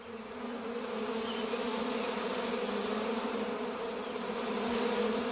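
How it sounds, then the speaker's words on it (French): Bees from a Simpsons cartoon buzz around a sugar pile, a steady, dense swarm drone that stays loud and unbroken throughout. "Barrez-vous de mon sucre, méchante abeille méchante!"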